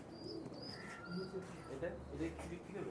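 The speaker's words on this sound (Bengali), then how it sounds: "এক পেয়ার আছে চুহা কবুতর" A pair of Chuha pigeons kept for sale with their young coo softly at close range, with faint chirps mixed in and quiet voices under the calls.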